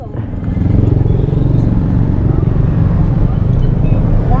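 A motorcycle engine runs at a steady, loud low rumble close by, with muffled voices underneath.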